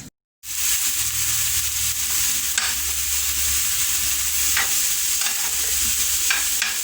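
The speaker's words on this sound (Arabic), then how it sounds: "غنبقى نستمر هكا في التحريك حتى تزيد تهبط ليا البصله والفلفله." Onion and pepper fry in a pot while being stirred, a loud steady sizzle that starts after a moment of silence, broken by a few soft scrapes and clinks of the utensil.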